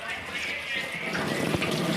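Running tap water rinses soaked chickpeas and fenugreek seeds for pickle making, a steady close splashing stream lasting throughout with a brief louder splash near the end.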